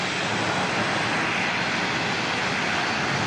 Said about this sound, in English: It's been a long time since I've seen a 747.